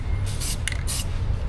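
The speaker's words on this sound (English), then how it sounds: "I'm just gonna spray the whole thing." Aerosol spray paint hisses in a few short bursts onto a supercharged LS engine in a Chevy Tahoe, close and fairly loud over a low background hum.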